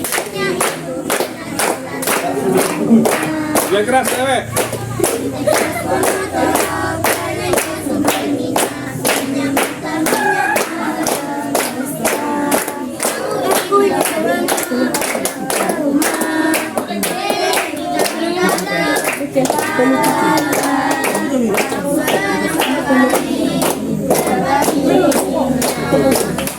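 Students in a classroom clap their hands together in a steady, loud rhythm of many sharp claps throughout, with a voice and other voices calling out over the clapping.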